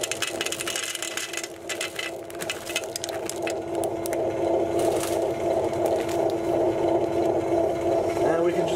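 An ice cream machine churns chocolate chip ice cream after a cup of chips has gone in. A steady motor hum is heard close up, with rattling, crunchy clatter that settles into an even drone.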